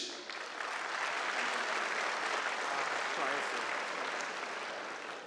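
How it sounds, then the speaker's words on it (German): Steady applause from an arena crowd greets a boxer's ring introduction at a boxing event in Koblenz, Germany, sustained and even for several seconds with a faint crowd murmur beneath. "Wir begrüßen Tarik Sulic."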